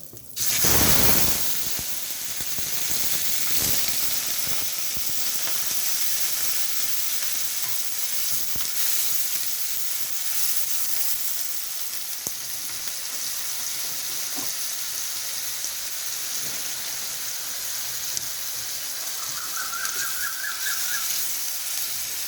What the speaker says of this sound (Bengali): এবারে যে আমি পেঁয়াজটা গ্রেট করে রেখেছিলাম ওইটাকে আমি দিয়ে দিচ্ছি